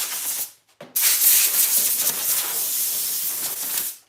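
A close, steady hiss of a water spray rinsing knife blades after rough grinding, starting after a short gap and running continuously for several seconds before cutting off.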